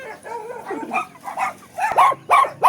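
A neighbor's dog barks, whimpers and yips in short irregular bursts. The calls are moderately loud and grow sharper toward the end, with no talking.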